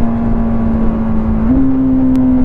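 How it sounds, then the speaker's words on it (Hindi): A TVS Apache 310 motorcycle engine drones steadily at close range, its pitch stepping slightly midway as the rider shifts gear, with no talk over it. "डाउन शिफ्ट देखना गाइस क्या मक्खन की तरह होता है"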